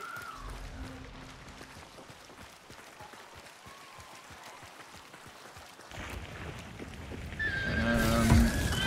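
A horse whinnies in the video game Hunt: Showdown, near the end of the clip, with a rising tonal call above ambient game noise and background clatter.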